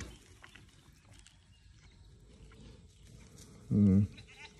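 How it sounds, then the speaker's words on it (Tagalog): A loud, close goat bleat rings out once near the end over quiet outdoor background, from thirsty goats on a hot day. "papainom tayo ng mga alaga nating kambing"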